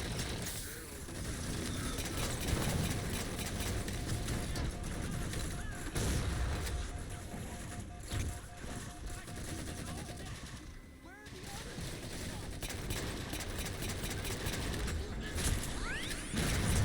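Sustained gunfire and heavy weapon blasts in a Halo 4 firefight against a squad of Covenant elites, loud and continuous with mechanical clatter throughout.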